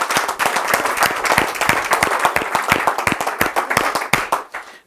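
Lively clapping from a church congregation, with sharp, rhythmic hand claps close by that fade out toward the end.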